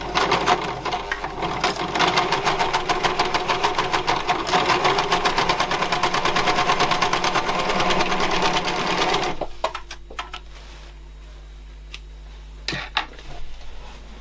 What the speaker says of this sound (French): Donc je surjette au fil noir